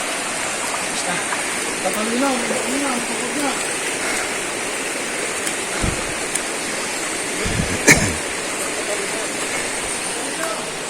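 A river stream flows on steadily in a broad, constant wash of water during a group crossing, with voices talking over it and a few splashes and knocks.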